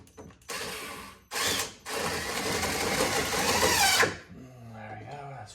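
Screws are driven into a universal license plate mount on a UTV, with a short whirring run of a powered driver followed by a longer one, then a voice talking briefly at the end.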